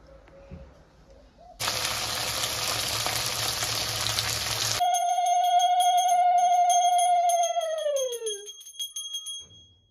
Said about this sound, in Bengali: তো দেখো প্রথমে ফুলকপিগুলোকে ভেজে তুলে নেব।